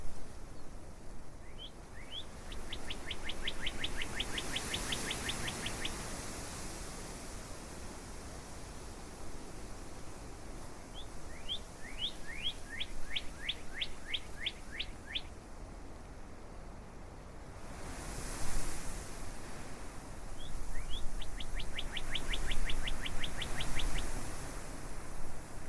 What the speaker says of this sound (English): Let's just listen to the beautiful birds and the sound of the grasses blowing in the wind.